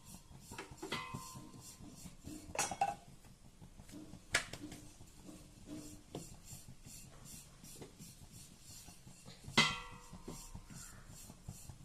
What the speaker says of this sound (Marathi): आता आपण पोळी लाटून घेऊया, कशी लागते पहा।